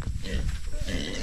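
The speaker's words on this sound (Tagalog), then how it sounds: "Baboy mo yan?" A farm pig grunts and snuffles in rough, noisy bursts at close range, mixed with people talking nearby.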